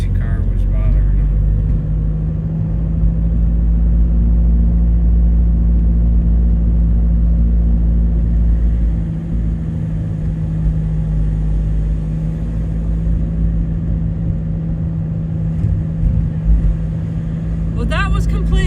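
A noisy car drives through Gatlinburg during Winterfest, its engine a loud, steady low rumble that holds without a break from start to finish.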